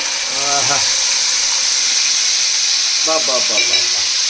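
Marinated ingredients for a cashew biryani tossed into a hot frying pan, giving a loud, steady sizzling hiss that continues throughout while a voice talks briefly at the start and again near the end.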